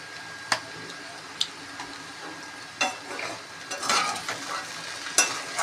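Baby okra being stir-fried with salt in a pan, giving a steady soft sizzle with scraping clicks of a spatula at irregular moments, close and moderately loud, with no voices.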